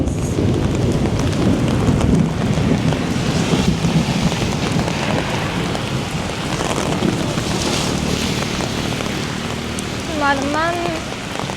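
Heavy rain falls in Kuala Lumpur as a dense, loud, unbroken hiss, and a voice briefly sounds near the end.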